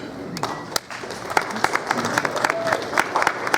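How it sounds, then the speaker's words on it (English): A room of people claps at SEC Media Days, scattered individual claps building into thinner applause over a few seconds, with a voice talking underneath. "I know this clapping did not come from the media"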